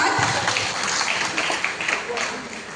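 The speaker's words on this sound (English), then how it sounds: "So let's clap yourself firstly." Teachers at a CBSE training session on learning outcomes and pedagogies clap together in a room, a dense, even patter of many hands lasting a few seconds with voices mixed in.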